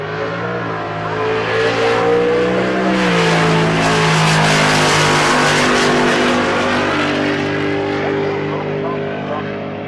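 A hot rod drag racing car with a naturally aspirated LS engine revs hard and loud up close, its harmonic engine note climbing and holding a sustained roar before easing off, with voices talking over it.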